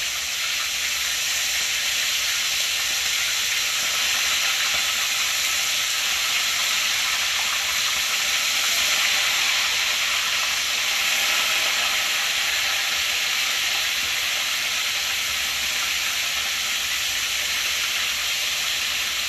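Chicken pieces fry in hot oil with a dense, continuous sizzle and crackle that holds steady and loud throughout, no talking over it.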